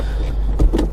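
Electric steering column motor on a 2001 Toyota Celsior / Lexus LS430 whirring briefly inside the car cabin, a low steady motor hum with a slight swell near the end, no talking.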